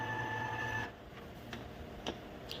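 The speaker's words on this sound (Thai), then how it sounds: "เราก็สั่งล้างหัวพิมพ์ผ่านคอมพิวเตอร์นะครับหนึ่งรอบ" An Epson inkjet printer runs a print head cleaning cycle, giving a steady mechanical whine for just under a second before falling quiet, with a few faint clicks and ticks after.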